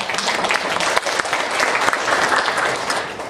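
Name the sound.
applause for the farm director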